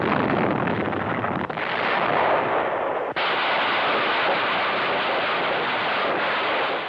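Heavy gunfire and artillery from a Pacific island battle with Marines facing a dug-in enemy, in 1951 war footage. A dense, loud, continuous roar of blasts and firing runs throughout, with two abrupt cuts, and no voices.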